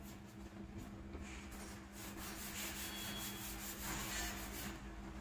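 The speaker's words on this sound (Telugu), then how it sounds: "ఇదేమో మడ్గారు ఇప్పుడు పాలిష్ చేయబోతున్నారు, రబ్బింగ్ చేయబోతున్నారు" A motorbike mudguard being polished and rubbed with a machine, giving a steady whirring, abrasive rubbing sound that continues for several seconds at even loudness with a faint hum underneath and no talking.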